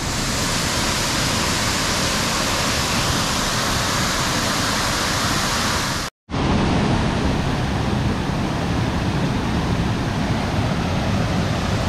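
Cachoeira do Paiva, a waterfall in Serra do Tepequém in the Amazon, roars as a dense, steady broadband rush close by, broken by a very brief cut midway, with no voices.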